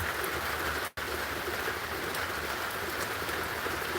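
Steady rain falls in North Georgia, a dense continuous hiss of drops on surfaces with one brief dropout partway through, otherwise unbroken and fairly close.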